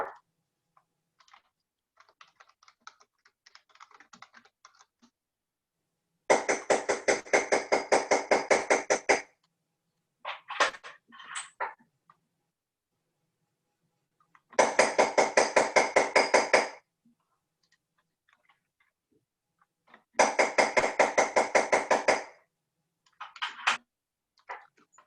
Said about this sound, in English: I'm holding my hammer low and I'm lightly tapping